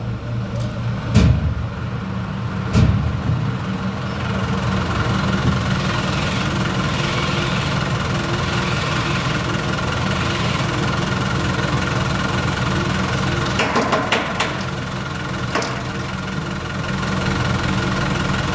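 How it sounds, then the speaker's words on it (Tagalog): Road traffic with cars, trucks and a motorcycle going by, a continuous mid-pitched engine drone with idling and knocking texture, a few sharp transient bumps, and no talking. "Lahat na ng klase ng sasakyan dadaan. May motosiklo pa."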